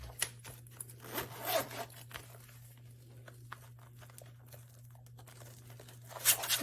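A wallet zips open up close, followed by soft crinkling and rustling as leftover cash, paper receipts and coins are pulled out, with small scrapes and clicks in a quiet room.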